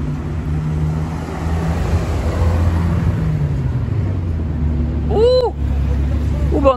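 A Ferrari 812 drives past on a Monaco street, its engine a low, swelling rumble that rises and fades over steady traffic noise, with voices nearby.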